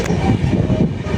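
Loud, steady rumbling and rattling inside a moving passenger train bound for Jamnagar, heard up close with no voices over it.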